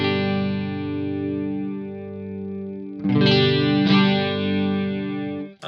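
Clean electric guitar chords through a clean amp and a Boss Super Chorus pedal ring out with a shimmering, wavering chorus effect, one long held chord followed by two fresh strums that sustain.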